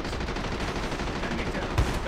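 Rapid gunfire in the mobile shooter game Call of Duty: Mobile crackles continuously, dense and loud, with a heavier thump near the end.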